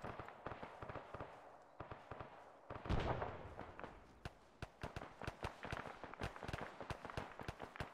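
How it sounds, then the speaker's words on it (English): Gunfire in the military game Arma 3: rapid sharp cracks and bursts, some close and loud, others quicker and lighter, firing in an irregular rhythm with one heavier blast partway through. "Who the hell is shooting to our south?"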